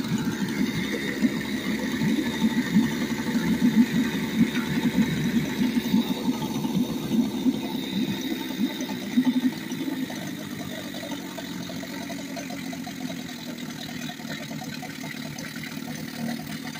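A 1953 Scott-Atwater Gold Pennant 7.5 HP outboard motor, once saved from a scrapyard, idles steadily nearby in cold weather with an even, low, buzzing putter. It settles slightly quieter partway through.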